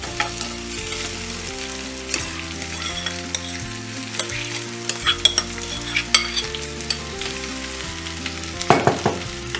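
Potatoes frying and being stirred into sautéed onions in a pan, steady sizzle with scraping stirs, with music playing throughout the cooking sounds.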